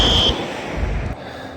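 A school fire alarm sounds during a fire drill: a loud, piercing electronic tone rings briefly at the start, then cuts off into a noisy, rumbling background.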